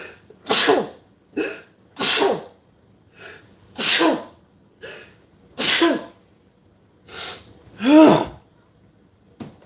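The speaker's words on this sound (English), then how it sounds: "Oh, and you sneeze too, little buddy," A small pet sneezes repeatedly, roughly seven sharp bursts spaced a second or so apart, close and loud in an otherwise quiet room.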